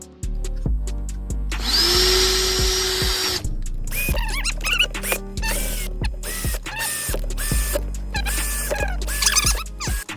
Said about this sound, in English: I'm gonna see if I can like drill some holes